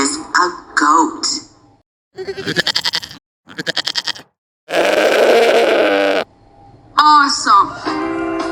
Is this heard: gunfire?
no